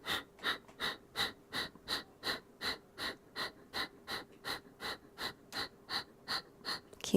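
Rapid forced exhalations of Kapalabhati yoga breathing done in bridge pose, a steady train of about sixteen sharp, close breath puffs at roughly two per second, evenly spaced and moderately quiet.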